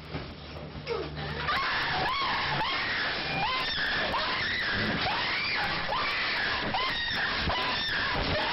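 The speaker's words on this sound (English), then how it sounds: "In her episode, which you're going to hear her scream, she believes she has a snake around her neck" A woman screams during a sleepwalking episode in a sleep-lab recording, giving loud, sustained, repeated anguished cries that rise and fall almost without pause for several seconds.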